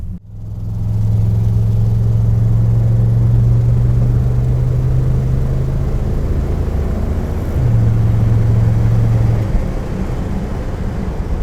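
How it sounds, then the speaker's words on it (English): A BMW i8 with a three-cylinder engine: a loud, close, steady low engine drone held for several seconds, briefly dipping and then resuming before it fades. "That's a BMW. The I8."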